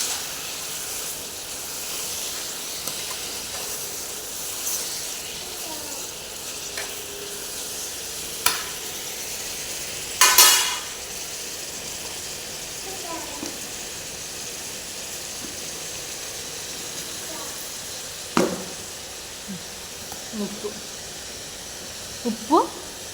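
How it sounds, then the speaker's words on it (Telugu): Chicken curry frying in a pan keeps up a soft, steady sizzle, broken now and then by scraping stirs and brief clinks of a utensil, close by and with no one talking. "తిప్పేసుకుని"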